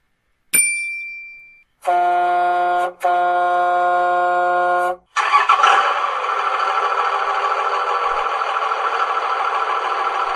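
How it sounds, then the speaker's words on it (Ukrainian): A chime and a sustained tone sound before an engine starts up with a burst and settles into a steady, close running rumble. "так, це автомобіль"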